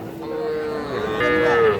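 A single cow gives a long, drawn-out moo at the Ranigonj livestock market in Ghoraghat, Dinajpur, where young bulls and heifers are sold; the call is close and rises in strength near its end, with no talk.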